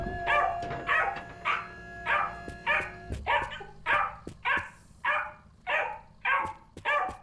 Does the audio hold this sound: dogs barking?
yes